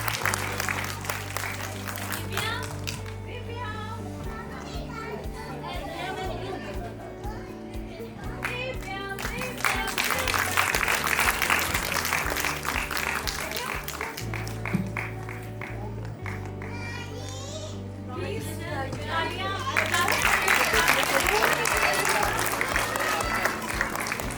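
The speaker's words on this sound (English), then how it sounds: "Big cheer for them." An audience at a children's fashion show for special kids cheers and applauds loudly and continuously, with waves of clapping swelling and easing over a backing music track.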